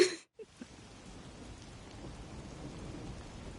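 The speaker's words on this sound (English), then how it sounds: "The faint sound of a ticking clock melts against the sound of rain." Steady rain hiss in a video game, fairly quiet and continuous after a brief silent gap, with a couple of soft knocks near the start; a faint ticking clock belongs in the scene but is not clearly separable.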